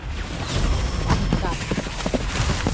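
Fireworks going off in the goat game Goat of Duty, a run of sharp crackling bangs and pops over a steady noisy bed, with excited voices talking over them.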